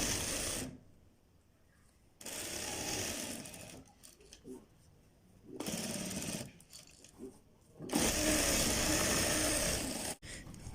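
Sewing machine stitching a strip for a high-neck kurta, close whirring bursts of rapid needle chatter starting and stopping several times, with quiet pauses between runs.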